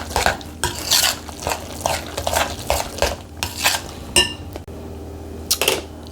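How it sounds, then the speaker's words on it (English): Mozzarella being stirred into cottage cheese in a bowl, a rhythmic series of close, wet scraping strokes with the utensil knocking against the dish. "we're going to go ahead and mix that mozzarella cheese into our"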